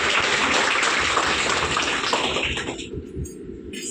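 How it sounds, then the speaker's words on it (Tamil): Attendees at a staff meeting break into dense, steady applause that fills the room, then thins out and fades toward the end, with no speech over it. "அது கண்டிப்பாக அவங்களுக்கு ஒரு பெரிய கைத்தட்டல்"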